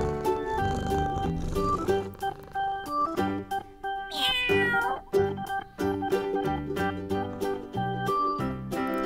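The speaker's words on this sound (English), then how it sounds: "Here's a cat." A cat in a barn gives a single clear meow partway through, over bright, bouncy background music.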